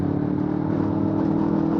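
A 2026 Yamaha R3 motorcycle fitted with a Coffman's slip-on exhaust, running steadily with a constant low engine drone and no clear revs, close and moderately loud throughout.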